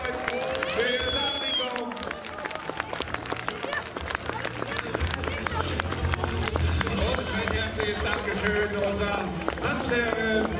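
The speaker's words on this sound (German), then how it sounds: "nochmal einen großen Applaus dem ganzen Starenlesern" Audience applauding the Stargarder Edelleute dancers at a Walpurgis celebration in 2017, with dense sustained clapping and crowd noise that run the full length, steady and fairly loud, with a few voices mixed in.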